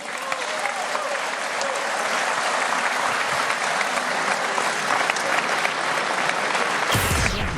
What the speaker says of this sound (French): Une standing ovation des 600 maires qui n'avaient applaudi que poliment à l'arrivée du président.